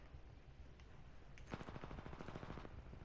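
Enemy gunfire in Titanfall 2 rattles out as a rapid automatic burst in the middle of the moment, a dense run of sharp shots over steady game background noise, at moderate distance.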